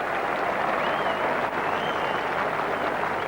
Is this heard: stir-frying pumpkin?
no